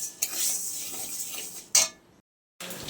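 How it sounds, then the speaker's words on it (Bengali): Moong dal dry-roasting in a pan, with a spoon scraping and stirring the lentils in two short bursts of rattling, scratchy clatter, then a brief silence before the scraping resumes. "তাই মুগ ডালটা একটু ভেজে নিচ্ছি।"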